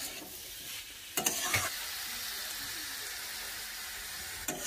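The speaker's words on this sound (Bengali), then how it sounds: "3-4 মিনিটের মতন ভালো করে মশলার সঙ্গে মিশিয়ে নিচ্ছি" Cauliflower and potato being stirred with spices in a pan, a steady sizzling frying hiss with a couple of brief louder scraping bursts from the stirring, close and alone.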